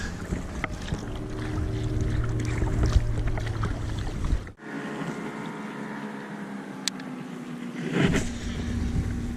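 A Nucanoe Flint kayak moves through choppy water, giving a steady close wash of water and hull noise with a low rumble. Partway through, a brief dip and quieter stretch break the flow, and then it resumes.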